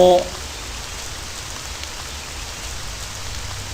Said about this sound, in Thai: คือฝนตกครับระวังลื่น